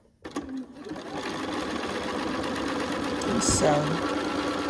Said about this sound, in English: Lay my foot down, take a few starting stitches.